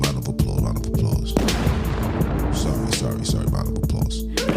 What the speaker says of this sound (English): Round of applause, round of applause.